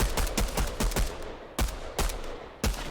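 Pistol gunfire in Fortnite: a quick run of sharp, close shots at a steady rhythm, then a short pause and three more evenly spaced cracks, loud and clear with no voices over them.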